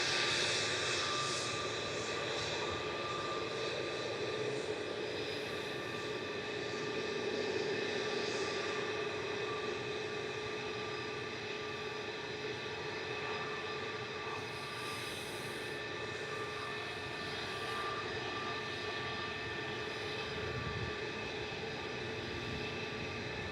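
An EasyJet airliner at Manchester Airport gives a steady, sustained jet engine roar with a whining tonal hum, constant and fairly loud throughout.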